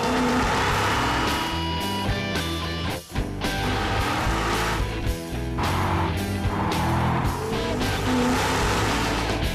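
A Ford FPV GT performance car roars loudly and continuously, its engine and tyres carrying steadily with a brief dip near the three-second mark.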